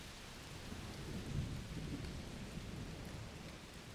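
Steady heavy rain pours down in A Plague Tale: Requiem, with low rolling thunder rumbling underneath, continuous and fairly loud with no talking.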